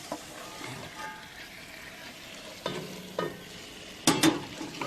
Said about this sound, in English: Sizzle, sizzle, sizzle.